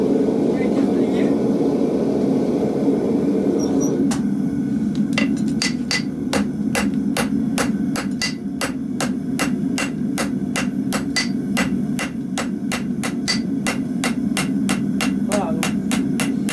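A farrier hammers a hot onion horseshoe to bend it, landing a long run of sharp ringing metal blows at a quick, steady rhythm over a loud continuous forge roar that fills the background throughout.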